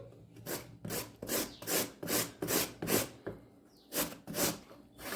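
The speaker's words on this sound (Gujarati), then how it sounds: "બટેટું આવી રીતે આમ ઊભું રાખવાનું આવી રીતે આડું તો તેના લચ્છા એકદમ સરસ પડશે આવી રીતે આપણે ખમણી લઈશું" A potato is grated by hand across a large grater, producing a steady series of rhythmic, close raspy scraping strokes, about ten in a row with brief pauses between them.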